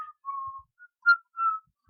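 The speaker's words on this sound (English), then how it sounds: "you guys hear a really creepy whistling" An eerie, creepy whistled tune, a few sustained wavering notes with short pauses between them, clear and alone against silence.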